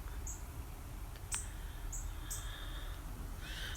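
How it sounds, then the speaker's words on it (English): Birds chirp at sunrise in short, high, scattered calls, faint and somewhat distant over a steady low outdoor hum, with no one talking. "I love to hear the birds."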